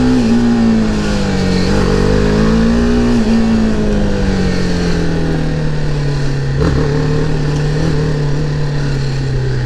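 A BMW G310R motorcycle engine revs up close, its pitch climbing and falling through several throttle blips over a steady, loud running drone, with no voices.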